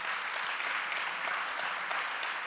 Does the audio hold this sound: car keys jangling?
no